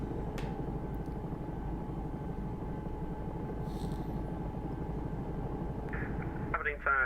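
A Bell 222 air ambulance helicopter in X-Plane 11 begins a rolling takeoff from a runway. Its turbine and rotors make a steady, loud, droning whine throughout, and a brief voice cuts in at the very end.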